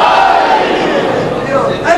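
Crowd at a Shia mourning gathering in an imambargah on 21 Safar chanting religious slogans in unison, loud and close, a brief collective shout with voices overlapping.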